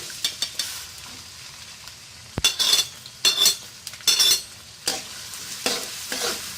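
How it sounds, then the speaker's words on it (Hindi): Chopped onion hitting hot oil in a cooking pot, with bursts of sizzling and several sharp spoon clinks and stirring scrapes against the pot, close and clear with quiet gaps between. "हंडिया में मैंने ऑयल शामिल कर लिया है। अब मैं इसमें प्याज डालूंगी"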